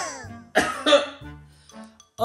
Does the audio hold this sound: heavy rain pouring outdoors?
no